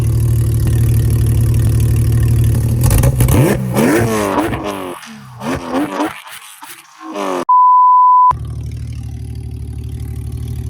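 A Porsche 911 992 GT3 engine is held at high revs with a harsh, loud roar, then drops and blips several times before a steady electronic beep.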